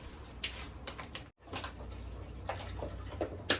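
Water pours and splashes in a steady stream close by, with a brief break midway before continuing, added while making chiles rellenos.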